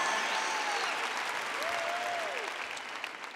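Large church audience applauding, a broad wash of clapping heard from a distance that fades slightly toward the end, with a faint tonal sweep passing through.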